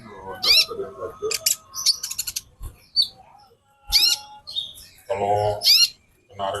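A female konin hummingbird gives repeated bright chirping calls in short bursts with pauses between, close and fairly loud, with people talking at moments around the calls.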